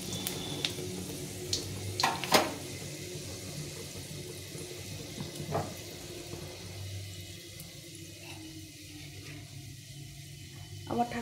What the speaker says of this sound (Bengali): এখন আমি এই শুকনো লঙ্কা, তেজপাতা আর 5 ফোড়ন নিয়েছি, এটা ফোড়নে দিয়ে দিলাম।